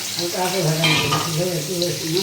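Eggs frying in hot oil in a kadai, a steady soft sizzle running throughout with low voice-like tones faintly mixed beneath it.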